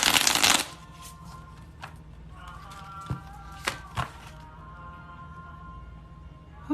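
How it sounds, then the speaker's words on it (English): Playing cards are shuffled up close: a brief, dense riffle burst at the start, then a few soft taps and slides of the deck in a quiet room. "One more shuffle and let's do it."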